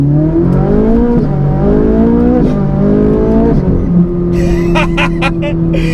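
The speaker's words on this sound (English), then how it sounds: "So we're driving the 2011 Ferrari 458." A 2011 Ferrari 458 widebody accelerating hard from inside the cabin, its engine note climbing through several quick gear changes before settling to a steady drone, with brief talking near the end.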